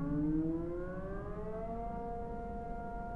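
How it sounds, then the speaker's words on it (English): A tornado siren wails alone at a distance in a Halo: Reach machinima, its rising, sustained tone slowly sliding upward as it winds up, steady and moderately faint. "A tornado siren."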